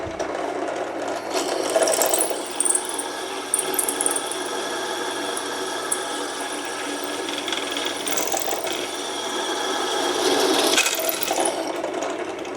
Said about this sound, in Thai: หนาขนาดนี้มันยังเจาะได้ครับเห็นไหม